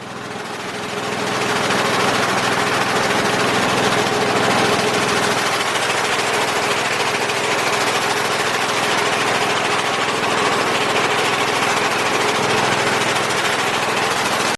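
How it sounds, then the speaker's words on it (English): A loud, continuous rattling pneumatic air hammer roars nonstop for a long stretch, close by, hammering a ball joint on a 1995 Ford Econoline E150, with no talking. "now what we're doing, using the air gun, hitting it and taking a hammer"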